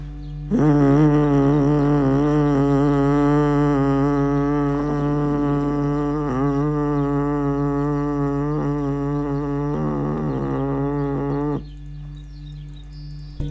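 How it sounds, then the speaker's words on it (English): A voice hums one long, low, steady rumbling tone from the chest for about eleven seconds, with a couple of brief breaks in the middle. "make a rumbling humming sound"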